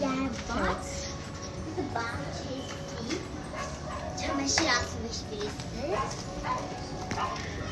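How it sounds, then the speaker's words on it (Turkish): A dog barks a few times in the background while people talk over it, with children's voices nearby. "Demek ki buranın köpek havlama sesi."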